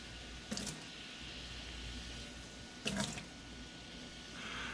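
Cooked noodle water drains out into a kitchen sink with a continuous watery hiss, broken by two brief louder splashes of pouring.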